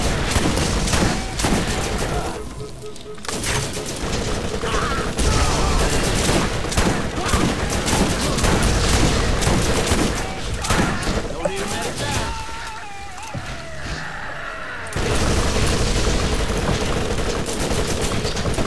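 Shotgun blasts and heavy gunfire from the Borderlands video game boom in dense, rapid bursts against an Arch Guardian, loud and continuous with brief lulls, while someone talks over the action.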